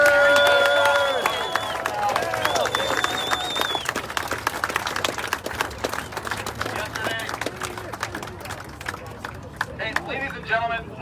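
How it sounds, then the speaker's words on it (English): Outdoor crowd at a Memorial Day rally in Chicago applauding and cheering after a speech, with sharp scattered claps and shouts over a broad wash that slowly thins out toward the end. "let's get one more round of applause for Pastor Gibson"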